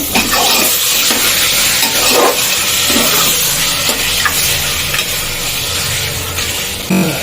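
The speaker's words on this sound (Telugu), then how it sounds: "మెంతి కూర వేగిన తర్వాత చికెన్ వేసేసుకొని మంచిగా ఒక ఫైవ్ మినిట్స్ ఫ్లేమ్ వచ్చేసి హై ఫ్లేమ్లో నేనే పెట్టి కలిపేసుకొని ఉడికించుకోవాలి" Chicken with fenugreek leaves stirred in a pan over a high flame, sizzling and frying steadily throughout with scraping spatula strokes against the metal, loud and close, with no voices.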